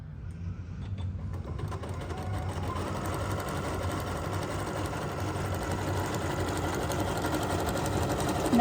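An embroidery sewing machine stitching a card hums and rattles in a steady, rapid mechanical rhythm, running continuously and growing slightly louder toward the end.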